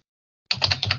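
Quick keystrokes on a computer keyboard, typing a prompt, begin after a half-second pause: a short, close run of about five or six crisp clicks with no talk.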